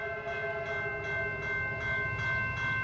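Westbound CN freight train rolling past at speed in Sinclair, Iowa, a steady loud rumble with rhythmic clatter of wheels over rail joints and a sustained tonal drone, close by and alone without talk.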